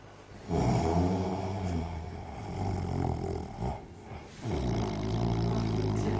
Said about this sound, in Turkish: gene başladın horlamaya